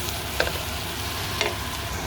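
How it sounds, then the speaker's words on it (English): Chicken pieces frying in a pan, a dense steady sizzle close by with a couple of brief clinks or stirs, and no talking. "the longest part of this cooking is actually frying the chicken"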